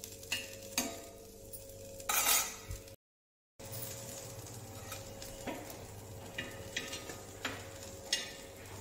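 Aloo mushroom soya kofta fry in a pan, a soft, steady sizzle broken by scattered clicks and scrapes of turning. A brief silent break interrupts the sound midway.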